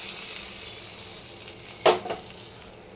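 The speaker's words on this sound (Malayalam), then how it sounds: "നമുക്കിനി ഇത് താളിച്ച് ഈ ബീഫിലേക്ക് ഇട്ട് കൊടുക്കാം കേട്ടോ." Steady hiss of hot oil as a tempering of dried chillies and curry leaves is prepared for beef roast, with a brief loud sizzle burst near the end as it hits the pan.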